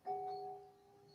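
A single meditation bell tone rings out clearly and sustains, slowly fading into quiet with a steady, pure ring.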